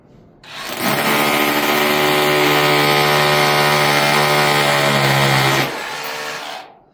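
Loud, steady roar of an SDS hammer drill drilling into concrete, with a strong buzzing hum, running continuously for several seconds close by, then cutting off abruptly.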